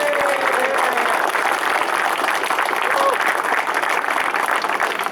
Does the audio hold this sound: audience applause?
yes